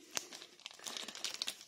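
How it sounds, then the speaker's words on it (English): A Digimon trading card pack wrapper crinkles and crackles close up, a quick run of sharp, faint rustles and snaps over about two seconds. "I should probably get scissors and cut them open with the scissors."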